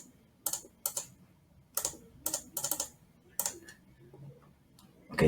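Clicking of a computer mouse during photo editing, about seven sharp, close clicks in irregular bursts, some paired, with quiet gaps between and no talking.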